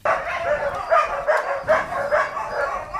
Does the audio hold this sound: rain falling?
no